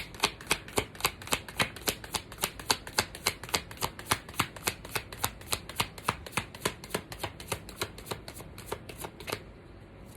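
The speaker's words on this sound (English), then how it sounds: "One more shuffle." Oracle cards are shuffled in a quick, even series of crisp riffling snaps, about three per second, close by, ending in a brief pause.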